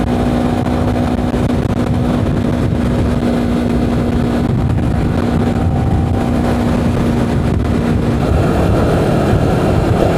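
A steady, loud engine drone runs throughout with a constant hum and rough rumble, like a motorcycle idling close by.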